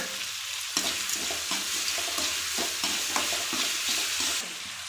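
Tomatoes and onions sauté in a pan with salt, a steady sizzle punctuated by regular scraping stirs, close and fairly loud, the frying dropping away briefly near the end.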